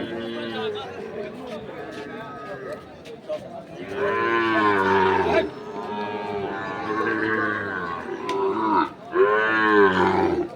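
Cattle moo loudly and repeatedly at close range at a livestock market selling Sahiwal bulls and calves, long drawn-out lowing calls, with faint chatter of people in the background.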